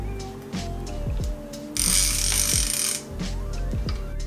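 A fishing reel's drag clicks rapidly as line is pulled off by hand, with bursts of ratcheting and a steady loud whirring buzz in the middle, recorded close up with no talking.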